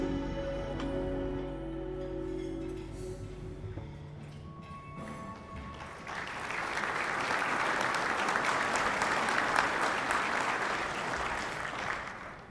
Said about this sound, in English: Please help me recognize again with your clapping.